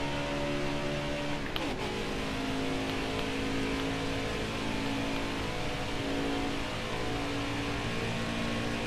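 Race car engine in the NASCAR Heat 4 video game, a loud, continuous droning roar that climbs in pitch as it pulls through the gears, with a brief shift blip early on.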